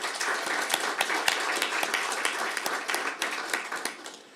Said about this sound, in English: final round of applause goes not to just, again, Bias and Bina, but to all of you for being part of this